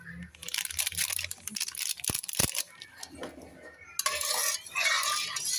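A utensil stirs unflavored yellow jelly powder into water in a casserole, giving irregular scraping, clinking and rattling strokes against the pot in short bursts, fairly close and moderately loud.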